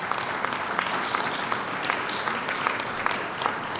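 A steady round of applause from an audience at a public event at O'Hare Airport Terminal 3, dense clapping throughout with no pauses.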